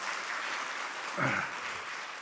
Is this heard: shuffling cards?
no